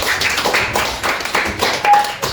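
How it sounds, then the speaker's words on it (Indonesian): Scattered hand clapping from a small classroom audience, uneven and fairly close, a short burst with a sharp tonal blip near the end. "Tepuk tangan untuk Pak Jihan."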